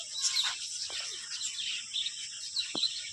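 Small caged budgerigars at the Patiala zoo chatter and chirp in quick, bright bursts, a busy flock twittering continuously with a few sharper calls standing out nearby.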